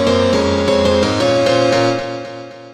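FL Keys piano in FL Studio processed with compression and delay plays a short sequence of sustained chords, bright and full, with echoing repeats that fade out at the end.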